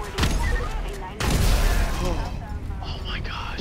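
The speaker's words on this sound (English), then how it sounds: "Oh, yeah, explosive ammo." A shotgun loaded with explosive ammo fires in GTA 5, making heavy booming blasts with rumbling tails amid continuous game noise, loud and close, with a voice talking over part of it.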